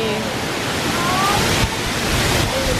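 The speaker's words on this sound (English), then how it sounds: "It is so windy." Strong wind roaring continuously into the microphone, a dense, loud blustery rush with brief faint tonal sounds.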